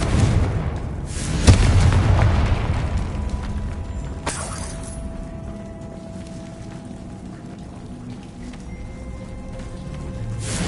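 A Confringo fire spell explodes in the Hogwarts Legacy video game with a sudden loud boom and blast that fades into a rumbling tail, followed by a sharper crack a few seconds later and a low, lingering ambient hum.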